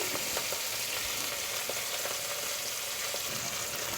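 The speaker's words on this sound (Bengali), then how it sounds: "আমি এখন মাছগুলিকে ভেজে নিচ্ছি" Chapila fish frying in hot oil, a steady dense sizzle with light stirring clicks throughout, close and continuous with no talking.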